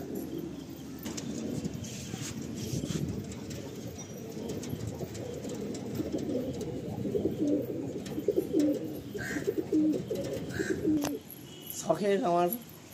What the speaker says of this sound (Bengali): বালি লাইনের সবুজ পায়রা